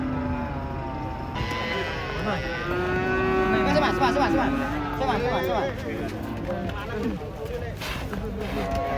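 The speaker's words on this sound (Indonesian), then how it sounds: "kita akan berburu sapi unik ini" Cattle mooing repeatedly, close and loud, as a large cow is unloaded from a truck, with people talking and calling over the lowing throughout.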